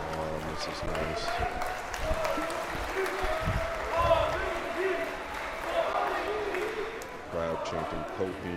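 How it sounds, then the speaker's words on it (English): A crowd chants Ko's name in rhythmic, repeated calls at a pool doubles match at the 2024 Reyes Cup, with ongoing crowd noise and applause. "Crowd chanting Kohini."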